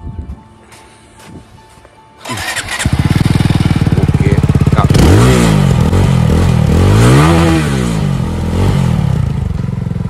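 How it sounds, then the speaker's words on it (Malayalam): A Jawa motorcycle at a showroom starts up and its exhaust note rises into loud, repeated revs, the engine surging and dropping several times at close range with no talking. "അപ്പം ഇതാണ് ഇതിന്റെ എക്സോസ്റ്റ് നോട്ട് എന്ന് പറഞ്ഞാൽ"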